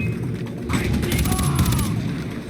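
Bursts of rapid gunfire in the video game Far Cry 4, a quick rattling volley of shots with game effects, heard under a player's talk.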